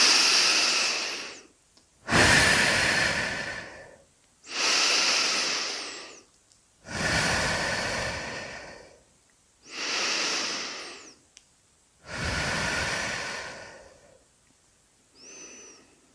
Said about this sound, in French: Je vais inspirer depuis le sommet de ma tête et souffler jusqu'à l'extrémité de mes mains, de mes pieds, par 3 fois.